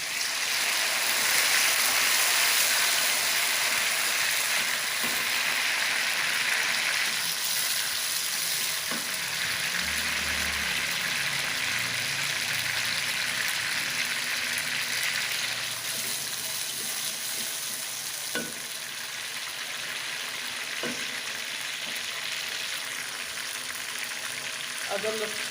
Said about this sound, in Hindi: अब मैं इसमें टमाटर डाल रही हूँ।